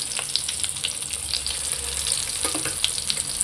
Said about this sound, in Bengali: কড়াইয়ের তেল একদম গরম হয়ে গেছে। এই দিয়ে দিলাম বেগুনের পিসটা।